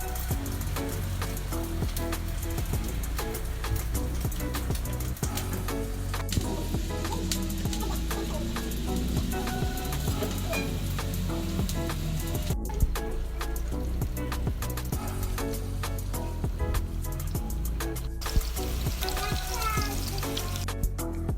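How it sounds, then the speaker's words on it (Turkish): Köfte, meatballs rolled to the size of a mandarin, sizzling in a pan of preheated oil, with a steady dense crackle and spatter running throughout, close and continuous. "Mandalina büyüklüğünde yuvarlaklar alıp köftemi yuvarlıyorum ve önceden yağ koyup ısıttığım tavama da koyuyorum"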